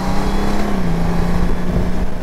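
A Honda Goldwing touring motorcycle engine drones steadily and close as it accelerates in sport mode, pitch gliding slightly as it pulls, with heavy low rumble and wind noise throughout.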